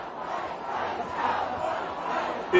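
Large crowd at a street rally for justice in Minneapolis, a dense continuous murmur of many voices with a rising shout near the end.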